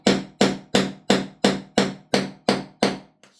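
Nine sharp metallic hammer taps on a pin punch, driving a pin into an airsoft gun build, in an even rhythm, each ringing briefly before the next, close and loud, ending with a softer final tap.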